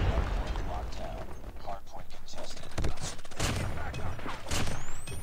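Repeated grenade explosions and gunfire in the mobile shooter COD Mobile, a dense, loud stream of blasts and shots with broadband bursts, heard under a player's talk.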